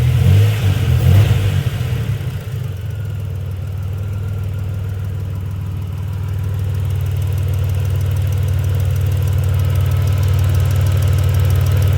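A 1991 Dodge Grand Caravan S engine with a stalling problem revs briefly and loudly near the start, then drops back and settles into a steady, droning idle that holds close up for the rest of the clip, with no talking.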